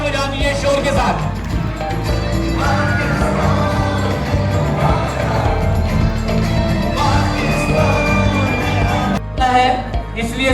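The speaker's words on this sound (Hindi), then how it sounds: "फरीहा के लिए भरपूर तालियां बजा दीजिए शोर के साथ" Audience at a speech competition in Punjab applauds and cheers for the second-place winner, a dense, steady roar of clapping and shouts under music-like tones, briefly dipping near the end before swelling again.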